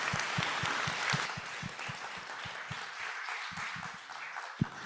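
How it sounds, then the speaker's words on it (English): Scattered applause from a conference audience after a panel conversation at a private capital bootcamp, heard faintly as a continuous patter of clapping. "So round of applause for Pete and Steve."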